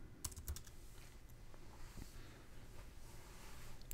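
Soft keystrokes tap on a computer keyboard while entering a search in a Joomla site, a faint, quick, uneven run of clicks against a quiet background.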